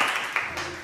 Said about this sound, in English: A round of applause for next stage personnel.